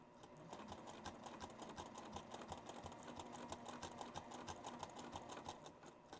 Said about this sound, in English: So here I'm gonna stitch in the ditch a little ways.